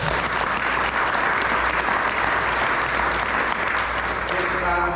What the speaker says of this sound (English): I want to give them girls a round of applause